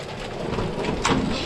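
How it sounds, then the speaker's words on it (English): Heavy rain and hail pour down in a mountain valley during a thunderstorm, a dense steady hiss with sharp impacts, loud and close. "there is a bit of hail happening right now. Real heavy rain. We've been having thunder and lightning"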